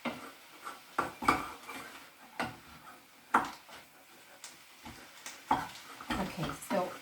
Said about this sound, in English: And then you just stir that up until all of your mince is browned.